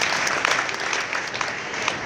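An audience at a business forum in Karachi applauds for the prime minister, a steady, fairly close burst of many hands clapping that carries on evenly without voices.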